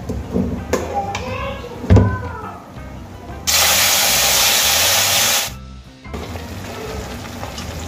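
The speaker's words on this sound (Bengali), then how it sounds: "এবার আমি এর মধ্যে দিয়ে দেব সেদ্ধ করে রাখা বিউলির ডাল।" Boiled urad dal tipped into a hot pan of fried fennel and grated ginger gives a loud, steady sizzling hiss for about two seconds before cutting off, with lighter clinks and kitchen rustle around it.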